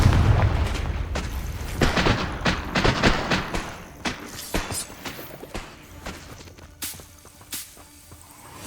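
Confringo blasting spells in Hogwarts Legacy: a heavy booming explosion followed by a string of sharp cracking blasts and rumbling impacts, loud and close, tailing off into scattered pops.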